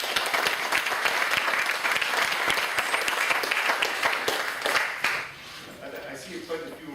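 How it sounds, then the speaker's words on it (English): An audience at a physics lecture on strongly correlated transition metal compounds claps in sustained, dense applause for about five seconds before it thins out and fades, with a few voices murmuring afterward. "Can we applaud first?"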